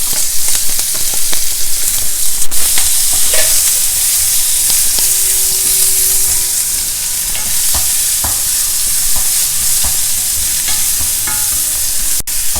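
Chopped onion sautéing in a pan, a loud steady sizzle and hiss with frequent stirring clicks and scrapes of a utensil against the pan, close up, no talking.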